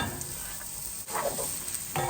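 Food for chicken and shrimp fried rice sizzling in a hot frying pan, a steady close crackling hiss with stirring scrapes and a brief dip midway; no talking.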